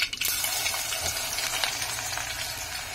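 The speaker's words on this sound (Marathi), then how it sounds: "कांदा थोडासा तेलावरती परतवून घ्यायचा." Finely chopped onion and mustard seeds frying in oil for a stuffed brinjal curry, a quiet, even sizzle that fades slightly after an opening clatter.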